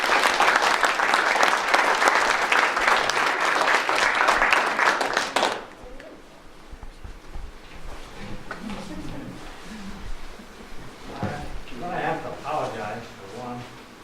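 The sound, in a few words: audience applause welcoming a speaker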